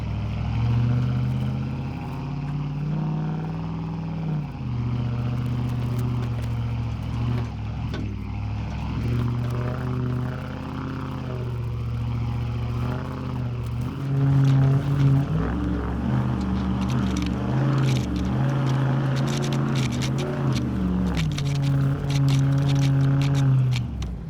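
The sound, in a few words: Dodge Ram HEMI truck with Flowmaster exhaust climbing off-road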